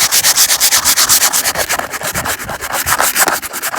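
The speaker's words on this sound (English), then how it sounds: "when you try to sand it, you can see it gets all into the sanding paper" Rapid, rhythmic rasping of sandpaper scrubbed back and forth over painted porch wood, close and loud, with quick even strokes.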